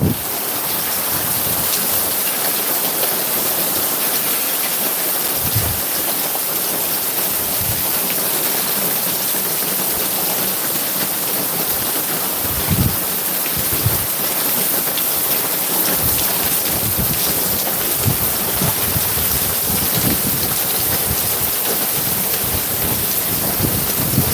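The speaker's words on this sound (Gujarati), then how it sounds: "આજ વરસાદ આવી ગયો" Steady heavy rain pouring down in a dense, unbroken hiss across a long stretch, with occasional low rumbles and splashes beneath it and no voices.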